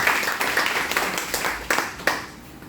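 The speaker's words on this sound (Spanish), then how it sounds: "Damos un fuerte aplauso con todo tu corazón." A church congregation gives a warm round of applause at a Spanish-language service, with scattered claps blending into a dense, moderately loud patter that thins toward the end.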